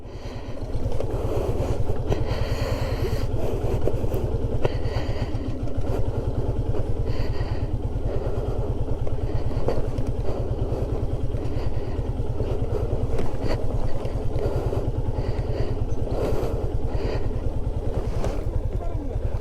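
A motorbike climbs the steep Tindu road on heavy throttle, its engine a loud, close, steady low rumble with a rattling chassis clatter running under it the whole way.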